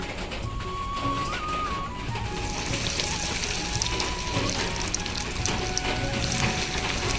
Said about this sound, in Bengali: এবার আমি এই কাটলেটগুলো ভেজে নেব